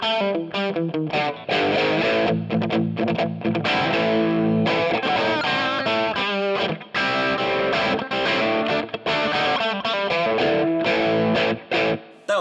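Electric guitar through an Overloud vintage amp simulation with a soft, dirty overdriven tone, reverb turned down and brighter, playing a loud continuous phrase of chords and notes with brief gaps, no voice.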